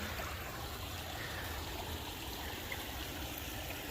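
A small outdoor waterfall trickling among grass, a soft continuous rushing and burbling of water, fairly faint and unbroken, with no voices.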